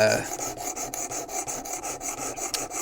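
Full knife-edge strokes on a WorkSharp Precision Adjust sharpening stone make a close, rhythmic rasping, about a dozen even scrapes in quick succession.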